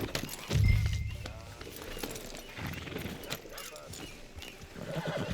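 Horse in the video game Red Dead Redemption 2 gives a loud, close whinny near the start, followed by softer hoof clops and movement under ambient game sound and some voice.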